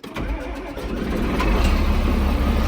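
An old-school farm tractor engine cranks, catches and builds into a steady, close, loud rumbling idle, with no talking.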